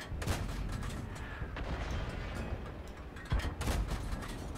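Tank guns firing in a World of Tanks battle, several sharp booms spaced over a few seconds with a louder pair of shots near the end over a constant rumbling battle ambience.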